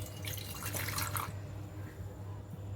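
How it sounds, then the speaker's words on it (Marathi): Water pours into a small pan on low heat for about a second, a bright splashing rush that fades to a quiet low hum. "त्यामध्ये थोडंसं पाणी ॲड करणार आहे"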